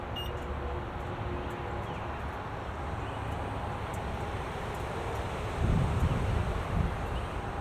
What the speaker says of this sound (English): Still hear the fans working.